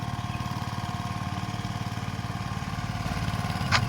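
A VST 130 power tiller's 4-stroke diesel engine runs steadily nearby, a rapid rhythmic low-pitched chugging that holds constant throughout with a brief clank at the end.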